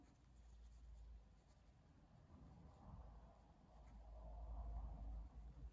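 A pen scratches steadily across paper up close, a soft continuous scraping with faint background hum and no talking.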